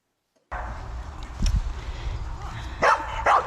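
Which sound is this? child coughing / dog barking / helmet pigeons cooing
dog barking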